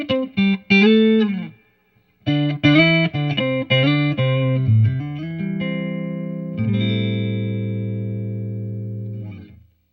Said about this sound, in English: Now we want to bring in a touch of reverb.